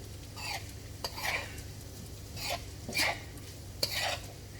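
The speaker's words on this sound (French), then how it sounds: "On va ajouter les protéines de soja texturées comme ceci. On va tout vider à l'intérieur. Je vais un petit peu mélanger." Textured soy protein is stirred in a pan for a vegan shepherd's pie, giving several short scraping and clinking strokes with faint sizzle between them.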